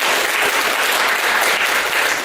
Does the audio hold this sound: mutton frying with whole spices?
no